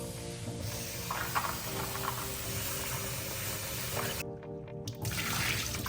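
Water runs steadily from a tap, with faint handling sounds as dried shiitake mushrooms are rinsed beneath the stream; a brief lull near the end.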